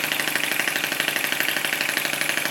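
A Lister D model stationary engine runs steadily at a slightly raised speed, its loud, even, rapid thumping beat continuing close up without a break and with no voices.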